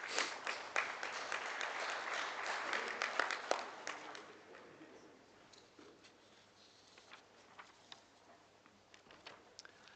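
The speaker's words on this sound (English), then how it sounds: "Would you give him a round of applause, please?" Audience applause at a livestock judging contest awards ceremony, with scattered clapping that starts fairly strong, then thins to faint patter after a few seconds, heard from a distance in a large hall.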